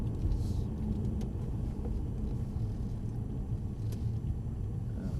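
A Mercedes-AMG C63 saloon rumbles along at low speed, a steady deep engine and road drone heard from inside the cabin, even and continuous with no voices.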